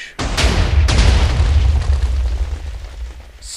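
A Minecraft cannon goes off in a loud, abrupt boom, followed by a second blast that rolls into a long, rumbling decay with crackling debris as it fades.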